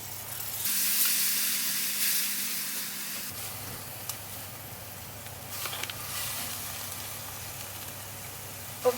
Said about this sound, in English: Now I'm gonna add my tomatoes into it.